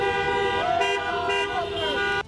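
Car horns honk continuously from a protest car procession, several horns layered into a loud sustained blare with shifting pitches over the whole stretch, no voices.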